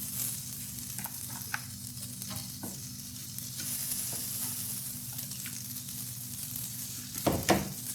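A buttered chicken sandwich sizzles quietly on a grill pan over a low flame, a soft, continuous frying hiss with a few small pops and a brief louder scrape of cookware near the end.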